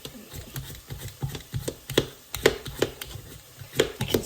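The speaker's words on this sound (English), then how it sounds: "I will probably cut them quite small because it will be getting boiled" Knife chopping carrots small on a cutting board for carrot and coriander soup, making a steady run of close, crisp taps and thuds.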